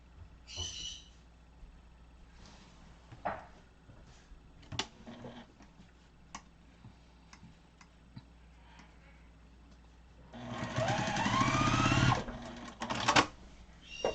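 A sewing machine joins two fabric pieces for a sewing machine mat, a soft burst of rapid stitching running a couple of seconds near the end, after scattered quiet handling clicks and taps, close and fairly faint.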